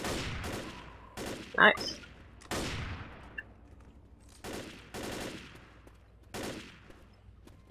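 In the Left 4 Dead video game, a gun fires about eight loud, sharp shots spaced irregularly as it snipes a smoker, each with a short echoing decay, while a player briefly speaks between them.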